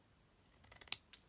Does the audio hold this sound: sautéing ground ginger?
no